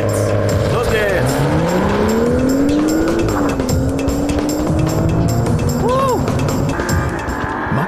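BMW M235i 2 Series launch-control start: a loud engine revs and pulls hard through rising gears while tires squeal, the pitch climbing, dropping at shifts and climbing again, with a brief tire chirp near the end.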